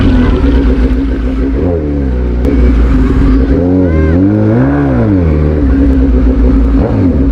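A Suzuki GSX-S1000 motorcycle engine ridden through town traffic, loud and close, rising and falling in pitch as the rider rolls the throttle on and off, with wind rush throughout.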